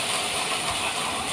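Water is poured into a hot pan of okra, and a loud, steady steam hiss rushes up close and continues without a break.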